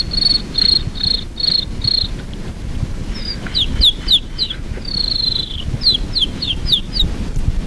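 A human voice imitates a cricket, first with a steady run of evenly spaced high chirps, then with quicker, bird-like tweeting flicks, close and clear against a quiet background.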